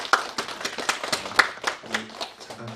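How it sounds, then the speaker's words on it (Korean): Church congregation clapping in welcome during a Sunday service, a run of irregular, moderately loud handclaps with a faint voice briefly underneath. "우리 환영의 박수 한번 할까요?"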